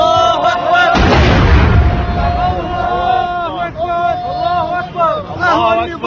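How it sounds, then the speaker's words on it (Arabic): Heavy artillery shelling booms out in one loud, sustained blast followed by rumbling, with shouting voices continuing over it close to the microphone. "النظام ينتقم يقصف قصف عشواء"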